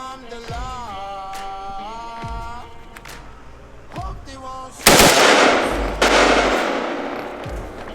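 Sharp, loud gunshot blasts with echoing tails at an outdoor range, while people talk between the shots.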